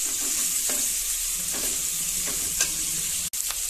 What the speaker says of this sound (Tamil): பெரிய வெங்காயம் நல்லா வதக்கி விட்டுறலாம்